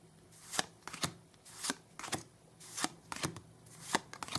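Trading cards in good condition handled and dropped one by one in a quiet room, giving sharp papery taps and slaps at an irregular pace, close and moderately loud with no talking.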